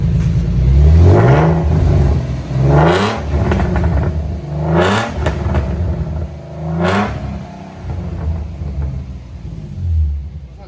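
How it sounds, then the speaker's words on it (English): A Nissan 300ZX engine idles with a low rumble and is revved repeatedly, about four sharp rises in pitch spaced a couple of seconds apart, each falling back to a loose, clattery idle, heard up close. "So the car is running now."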